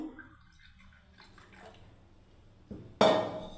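Milk is poured into a batter of atta and suji, beginning as a soft trickle and ending in a loud, close splash and gurgle in the final half-second.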